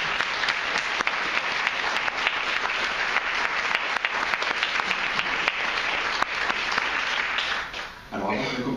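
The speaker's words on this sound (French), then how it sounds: "ce que je vais vous proposer, déjà pour commencer, pour se faire du bien, c'est de l'applaudir" A conference audience in Bordeaux applauds a speaker, dense steady clapping that fills the room for about eight seconds and then quickly dies away.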